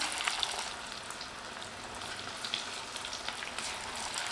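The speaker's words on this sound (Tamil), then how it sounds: "எண்ணெய் நல்லா சூடாக இருக்கும்போது கொஞ்சம் கொஞ்சமாக கிள்ளி போடும்போது சரியாக இருக்கும்" Small pinches of toor dal pakoda dough fry in hot oil with a soft, steady, crackling sizzle and scattered tiny pops, fairly quiet throughout, with no talk.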